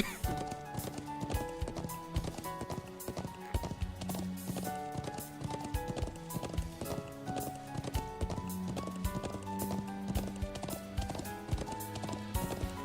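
Horse hooves clip-clopping at a steady galloping rhythm in The Legend of Heroes: Sen no Kiseki III, layered over busy game music and effects that run continuously throughout.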